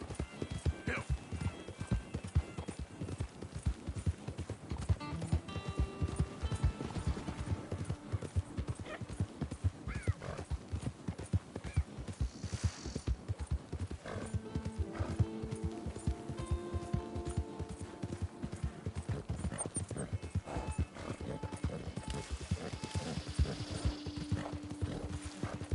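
A horse gallops in Red Dead Redemption 2 on PS5, producing a steady run of hoof clip-clops with occasional snorts and whinnies, while a player talks intermittently over game music.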